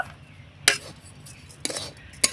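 Powdered milk is stirred into a coconut filling for gujiya, with three sharp spoon clinks against a bowl over a faint background, and no one speaking.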